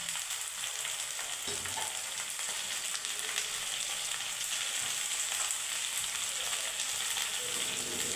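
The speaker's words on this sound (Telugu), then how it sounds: "ఉల్లిపాయ ముక్కలు వేగినప్పుడు బెండకాయ ముక్కలు వేయించి వేసుకోవాలండి" Okra pieces fry with onions in a pan, giving a steady, close sizzle with faint scraping now and then throughout, and no talking.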